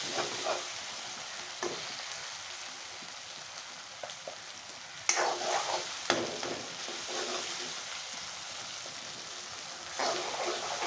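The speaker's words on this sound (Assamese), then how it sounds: "আৰু ভাজি থোৱা পিঁয়াজ বিলাহীৰ পেষ্টত মই এতিয়া" Soybean chunks sizzle in an onion-tomato paste in a pan, giving a continuous close frying hiss broken by sharp stirring clatters and scrapes, with no talking.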